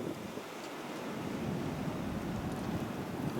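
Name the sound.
wind during a blizzard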